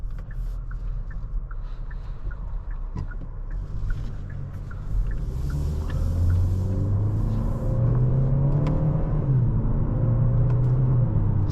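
A 2025 Kia K4 GT-Line Turbo accelerates from inside the cabin, its engine hum rising in pitch through the gears beneath a low, steady road rumble, with faint ticking early on.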